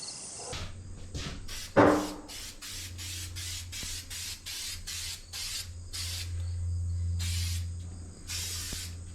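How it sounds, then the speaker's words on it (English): A can of 3M spray adhesive is sprayed inside a Ford E350 cargo van being converted into an RV, ahead of fitting wool insulation: a long series of short, sharp hissing bursts in an irregular rhythm, close by, with a low hum beneath. "I'll spray it on, wait a few minutes for it to become tacky, then stick the wool onto it"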